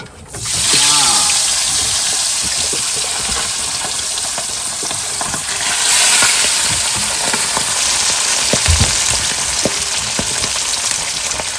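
Food frying in hot oil by a riverside, a loud dense sizzle starting abruptly and holding steady, with occasional clatter and faint voices in the background.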